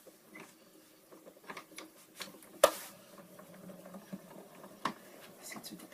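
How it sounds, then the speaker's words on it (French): A Happycut die-cutting machine feeds a base plate through, giving a steady mechanical whir and soft clicking with two sharp knocks, heard close and fairly quiet with no one talking. "on met la plaque de base au-dessus, on passe dans la machine"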